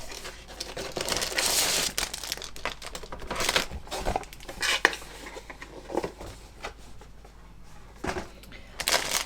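A resealable peel-open plastic packet of 1/72 Curtiss H75 model kit parts crinkles and rustles as it is handled, with bursts of crackling plastic and the light clatter of sprues shifting inside, close and fairly loud.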